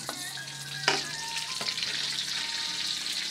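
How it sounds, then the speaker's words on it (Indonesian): Food frying in a hot pan gives a steady, loud sizzle throughout, with a few clinks of stirring near the start, close up and without talk. "udah langsung kita goreng bos"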